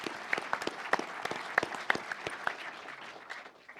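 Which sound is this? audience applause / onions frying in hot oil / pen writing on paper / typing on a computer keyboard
audience applause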